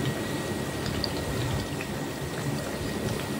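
Lebaran cookies deep-fry in hot oil, producing a steady, close, bubbling sizzle that stays even throughout with no talking.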